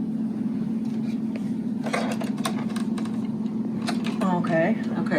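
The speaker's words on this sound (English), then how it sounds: "fold the fabric in half and sew along the folded edge with the 4 thread overlocker" A Babylock L890 four-thread serger overlocker runs with a steady mechanical hum while sewing along the folded edge of fabric, close and continuous, with people talking over it.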